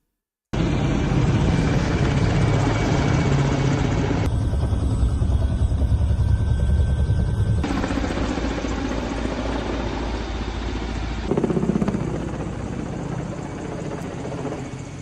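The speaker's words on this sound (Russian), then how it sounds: "И это вертолеты разведки подключили." Reconnaissance helicopters fly over a large fire at a facility, their rotor and engine noise a loud, steady roar that shifts in tone several times with no talking.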